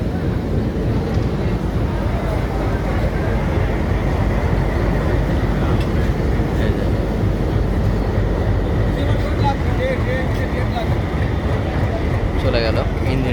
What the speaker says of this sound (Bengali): চলে গেল ইঞ্জিনটা, এই বগিটা নিয়েতে আসছিল আর কি, চলে যাচ্ছে এমনি।